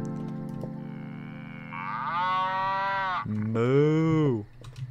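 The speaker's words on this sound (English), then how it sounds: "Moo!" A cow moos in the farm-and-burger game Happy's Humble Burger Barn, loud and close, as a long drawn-out call in two rising and falling parts that ends abruptly.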